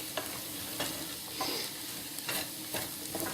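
A spoon stirs and scrapes along the bottom of a pot of homemade cream of celery soup, giving a series of soft rhythmic scraping strokes about every half second, close and quiet over a faint simmering hiss.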